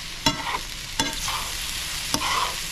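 Hotdogs fry in a hot pan with a steady soft sizzle. Three sharp scrapes of a utensil stirring them come at regular intervals, alone and close by.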